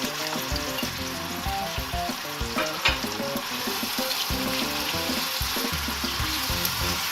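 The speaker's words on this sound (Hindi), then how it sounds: "टमाटर डालकर अब इसे अच्छे से भून लेना है" Masala with onions, garlic, ginger and tomatoes sizzles steadily in a pan for a khashkhash dish, a loud, dense frying hiss broken by scattered stirring knocks, with no voices.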